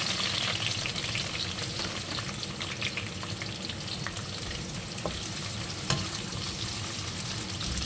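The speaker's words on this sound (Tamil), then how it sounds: "எண்ணெயை போட்டுட்டு வெங்காயம் போட்டு வளர்க்குறேன்" Onions frying in oil in a pan, a continuous close crackling sizzle with small pops and stirring scrapes, steady throughout with no talk.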